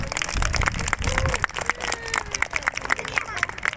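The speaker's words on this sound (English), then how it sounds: "let's welcome them with a round of applause" Audience applause welcoming police officers at a children's event about search and rescue police dogs, a dense patter of claps with crowd murmur mixed in.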